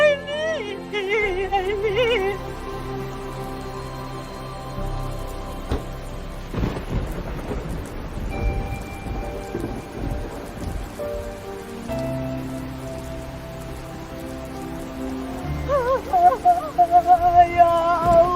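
Rain falls steadily with rolling rumbles of thunder, a strong crash in the middle and tonal music layered throughout the scene.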